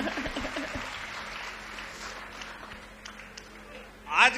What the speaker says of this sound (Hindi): तालियां कमजोर है भाई